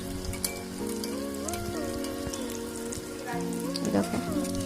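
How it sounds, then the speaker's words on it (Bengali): Dhoka lentil cakes frying in hot white oil in a wok, a continuous close crackling sizzle with a few scraping sounds, while an unrelated tonal background hum runs underneath. "এবার কড়াইতে সাদা তেল দিয়ে আমি এবার ধোকাগুলো ভেজে নেব।"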